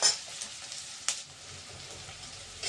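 Something frying in a pan ahead of a mustard-paste egg dish, with a soft, steady sizzle, light stirring sounds and a sharp clatter about a second in.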